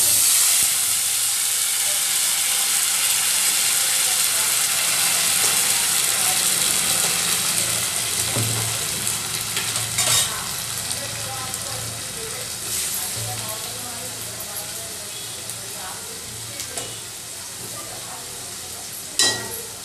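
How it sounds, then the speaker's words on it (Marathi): Spices crackle and sizzle as they temper in hot oil for an Indian egg curry, a steady broadband hiss with faint stirring clinks throughout, close and moderately loud. "आता आपण मसाल्याला फोडणी देऊन घेऊया"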